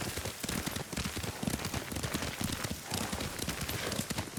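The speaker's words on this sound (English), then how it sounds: "Lord Sakai taught me to ride a horse." Horse hooves clop at a steady gallop in the video game Ghost of Tsushima, a dense continuous drumming of beats under a wash of rain-like noise, with no talking.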